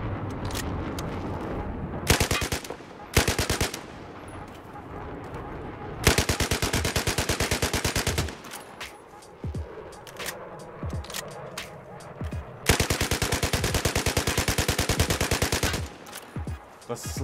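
Light machine gun fired on a Battlefield video game firing range, with several sustained rapid-fire bursts of loud, sharp shots separated by short pauses and a few single clicks.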